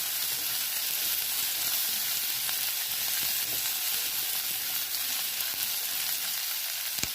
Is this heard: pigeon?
no